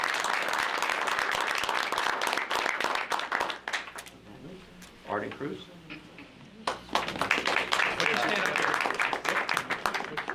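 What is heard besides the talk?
round of applause for the undefeated team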